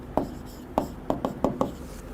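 Marker or chalk strokes on a board during a logic lesson come through as six short, sharp scratches in a loose rhythm, close and clear over quiet room tone.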